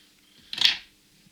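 Small scissors snip the tip off a piece of sculpting clay, a single short, crisp cut heard up close in an otherwise quiet room.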